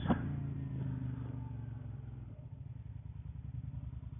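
A Suzuki SV650 motorcycle engine runs low in the rev range with a deep, throbbing grunt, a sharp onset followed by a steady pulsing exhaust beat heard close and alone.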